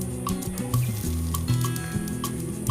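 Two dry red chillies and half a spoon of panch phoron crackle and sizzle in about two spoons of oil in a wok, with stirring clinks and scrapes punctuating the steady frying, close and fairly quiet.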